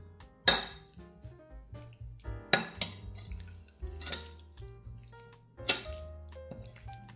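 Food seasoned with salt and pepper is stirred in a dish: a utensil clinks and taps against the dish several times in an uneven rhythm, close and fairly quiet, with no talk.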